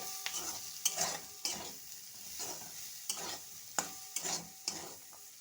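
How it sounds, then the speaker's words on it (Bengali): Small potato pieces frying with snails in a pan, a quiet sizzle broken by repeated stirring strokes and scrapes of a spoon. "আমি একটা আলু ছোট ছোট করে কেটে নিয়েছি এই শামুকের উপরে ভেজে নিচ্ছি"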